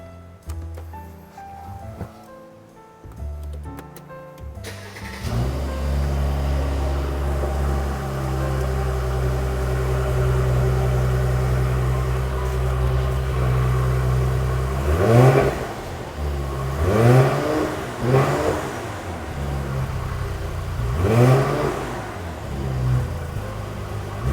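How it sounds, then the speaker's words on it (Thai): A C253 Mercedes GLC63 AMG Coupe engine cranks and fires after a few seconds of quiet, settles into a deep, steady idle, then is blipped in several sharp throttle revs that rise and fall near the end. "เดี๋ยวผมจะ สตาร์ทเครื่องแล้วก็เร่งเครื่องให้ชมนะครับ ลองฟังเสียงดูนะครับ"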